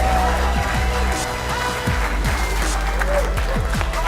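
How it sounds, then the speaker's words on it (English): Audience applause for an esports team at a CS:GO match: a dense, steady wash of clapping from a crowd, heard under loud talk over the speakers. "a huge round of applause for their team that they're taking on"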